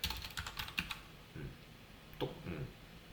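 Fingers tap a computer keyboard while entering a CSS value, a quick cluster of close keystroke clicks early on, then a few scattered clicks after a pause.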